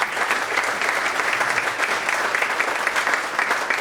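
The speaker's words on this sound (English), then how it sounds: "Hands up, come on. Round of applause." An audience at a foundation launch event applauds in dense, steady clapping that holds at an even level throughout.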